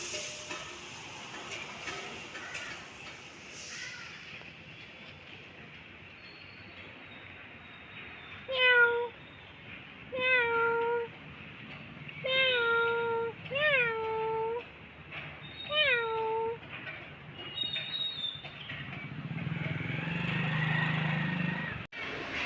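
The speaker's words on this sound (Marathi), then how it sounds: "बघितली ना मांजराची पिल्ल इतकी गोड आहेत ना इतकी मस्त आहेत ना" A series of high, thin kitten mews, about six short cries spaced a second or two apart, close by, with quiet background noise and rustling afterward.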